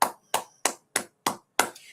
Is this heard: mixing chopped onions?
no